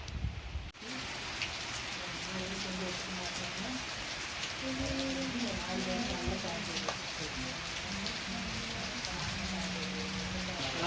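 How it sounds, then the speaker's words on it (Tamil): Steady heavy rain pours down outdoors after a cricket match, a dense continuous hiss that fills the whole stretch, with a faint voice or two buried underneath. "நல்லா மழை பிடிச்சிக்கிச்சு."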